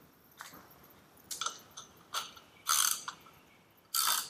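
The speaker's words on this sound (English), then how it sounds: "we'll take that nut off and then we'll slide the prop off" A wrench ratchets a 14mm nut off an outboard motor propeller. Close, clicking bursts come in uneven strokes, with a few longer, louder ratcheting runs toward the end and no talk.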